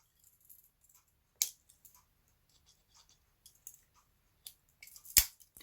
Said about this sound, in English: So next we have scissors.